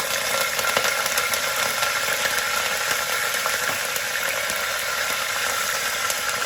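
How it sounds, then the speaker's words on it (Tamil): Dal and mustard seeds sputter and crackle in hot oil while tempering a Tamil bottle gourd tamarind curry, a steady close-up sizzle with scattered pops and no voices. "பருப்புலாம் நல்லா வந்து பொரிய ஆரம்பிச்சிருச்சு"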